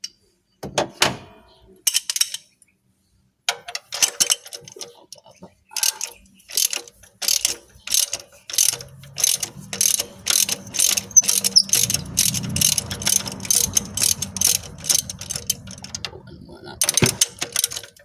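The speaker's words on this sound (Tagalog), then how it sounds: "Gamit tayong extension tsaka DC size na socket." A ratchet wrench fitted with an extension and socket loosens a spark plug, sounding close, rapid clicking bursts in rhythmic strokes with short pauses, and a low hum underneath partway through.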